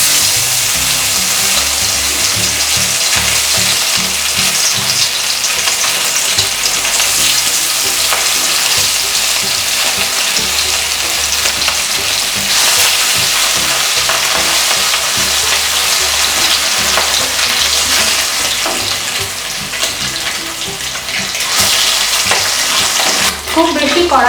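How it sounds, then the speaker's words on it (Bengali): Pieces of katla fish fry in hot mustard oil in a wok, giving a loud, continuous, crackling sizzle with scraping and stirring sounds mixed in throughout. "এবারে আমি মাছগুলোকে ভেজে নেব।"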